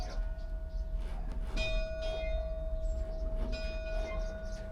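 A bell on a stopped locomotive in a small Rocky Mountain town along US Highway 40 rings in repeated sustained metallic strikes over a low engine idle rumble, fairly faint, with people talking quietly nearby.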